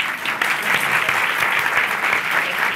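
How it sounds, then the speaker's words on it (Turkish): Studio audience on a Turkish television show applauds a guest receiving a trophy, dense even clapping from a sizeable crowd, sustained and loud for the whole stretch. "Bayağı alkış aldın ha"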